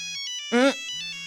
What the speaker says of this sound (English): a loud ringing startles you